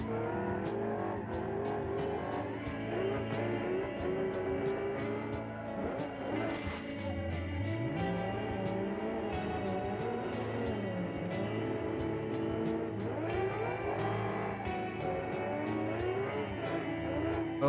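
Race car engine in the BeamNG Drive driving game drones steadily, pitch rising and falling with shifts and throttle, with occasional tire squeal, loud and continuous throughout.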